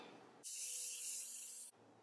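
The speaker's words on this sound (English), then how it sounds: "spray it a little closer than I should to the edge and get that stuck down" Adhesive spray can misting glue onto ottoman fabric during a no-sew reupholstery job: one steady hissing burst of a little over a second, close and fairly loud, with quiet room noise before and after.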